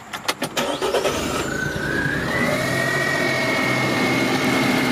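A 1992 Suzuki Carry fire van conversion starts up with a few rapid cranking pulses, then catches and settles into a steady, close, buzzy idle with a rising whine.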